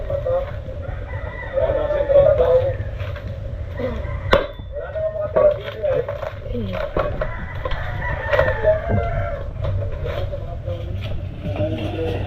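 Roosters crowing nearby on a farm with many chickens, several drawn-out calls rising over a busy background with clucking and scattered knocks, while people talk underneath.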